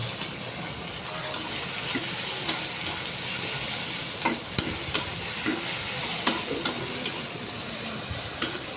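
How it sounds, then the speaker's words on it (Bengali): Chopped onions fry in hot mustard oil for a chicken curry, a steady close sizzle broken by repeated sharp clicks and scrapes of a spoon stirring against the pan, with no voices. "তেলের মধ্যে পেঁয়াজটাকে ভালো করে ভাজা ভাজা করে নিতে হবে"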